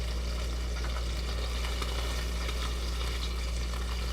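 Salmon in teriyaki sauce searing in a pan, a steady dense sizzle with faint crackles and a low background hum, continuous and close with no voices.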